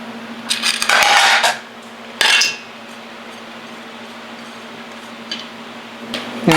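Sliced vegetables for okoy fritters tossed together in a bowl, giving two short bursts of clinking and scraping close by over a low steady hum, then quiet with a faint tap or two.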